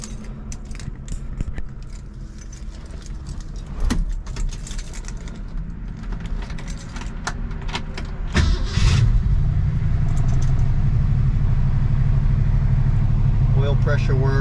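A 1966 Ford Mustang engine cranks with clicks and rustling up close, catches with a sharp burst, and settles into a steady, rumbling idle, with a voice briefly heard early on.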